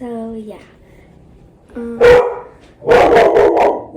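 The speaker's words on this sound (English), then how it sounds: "that was my dog." A pet dog barks a few sharp times close by, in short bursts near the end, following a brief stretch of a person talking casually indoors.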